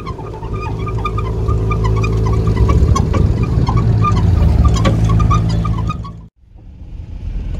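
A car cruising in a classic-car convoy at a Japan Classic meet gives a steady, loud engine drone with heavy wind buffeting throughout, briefly dipping to a lull before picking up again.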